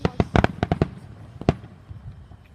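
Fireworks going off in a quick burst of sharp cracks and pops, several clustered together, then one louder bang followed by a fading rumble and faint crackle at a distance.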